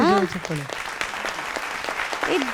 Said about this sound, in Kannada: ಈ ಚಪ್ಪಾಳೆ ಕೊಡ್ರಪ್ಪ.